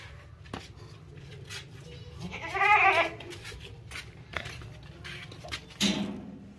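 A male goat at an Eid Qurbani livestock sale gives one loud, wavering bleat close by, over a low background murmur with scattered knocks and a short later cry.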